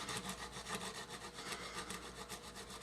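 A file works back and forth across a Les Paul guitar nut in steady repeated strokes, close and fairly quiet, with a dry rasping texture and no voices.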